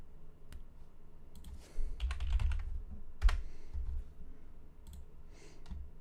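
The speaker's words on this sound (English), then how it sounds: "if you hear me click-clacking, I'm typing to our Discord right now" Typing on a computer keyboard during a stock market livestream comes through as quiet, close clicking in scattered short bursts, with a few louder clacks and a faint low background hum.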